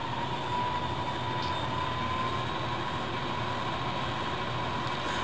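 Simulated diesel locomotive with head-end power notched up in a sound project, a steady loud droning rumble with a sustained hum, continuous and unvarying throughout with no talk.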